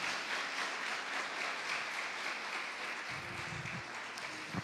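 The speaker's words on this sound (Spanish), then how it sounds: "Dele un aplauso al Señor" Church congregation applauding during a sermon on spiritual gifts, a soft, steady wash of clapping with a faint low voice entering toward the end.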